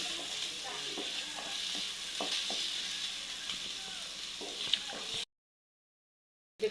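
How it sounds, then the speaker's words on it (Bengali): Meat fries in a pan with a close, continuous sizzle and occasional stirring clicks, then cuts to silence near the end. "আর একটু ভেজে নেব।"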